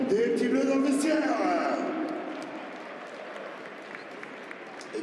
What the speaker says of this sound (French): Merci d'accompagner par vos applaudissements la rentrée des petits bleus dans le vestiaire.